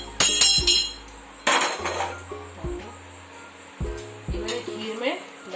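Dry-roasted makhana (fox nuts) tip into a metal pot of kheer with sharp clinks and clatters of a spoon against the pan, a few separate knocks spaced across the moment.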